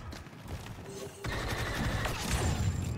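A grenade explosion in Battlefront 2 lands amid ongoing battle noise, a sudden loud boom and crash around the middle, followed by continued gunfire and chaotic combat sounds.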